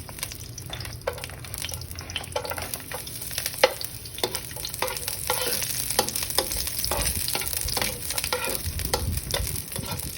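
Garlic fries in a pan as the base for Filipino fish sarciado, giving a steady, close sizzle with light stirring and scraping throughout and no talk.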